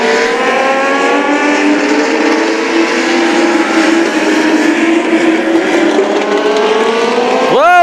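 US Legend race cars circle a track at NHMS with a loud, continuous, buzzing engine drone. Pitch slides and bends as cars pass, and a sharp rising sweep comes near the end as one car rushes by close.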